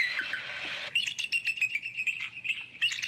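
A person imitates bird calls outdoors with a thin, high whistle, first held steadily, then broken into a quick series of short chirps of fairly even loudness.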